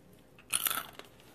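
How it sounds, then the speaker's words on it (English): Someone bites into a sweet and spicy oven-fried chicken wing, producing one sharp, crisp crunch with a brief crackle after it, close up and otherwise quiet. "Listen, sounds like a fried chicken wing."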